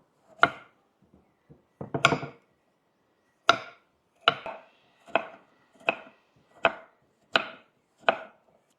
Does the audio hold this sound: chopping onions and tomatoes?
yes